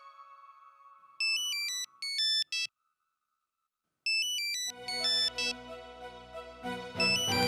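A phone ringtone plays a bright electronic melody in short bursts, pauses in silence, then resumes and swells into fuller music.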